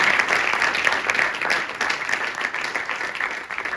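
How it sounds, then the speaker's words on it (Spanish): An audience at a sports mental-health conference gives continuous, even applause, moderately loud and filling the room throughout, without fading out. "Pues este aplauso es para ti también."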